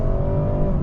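A 2024 BMW 430i Coupe M Sport accelerating off a highway, its engine note a loud, steady drone with a slowly rising tone heard from inside the cabin.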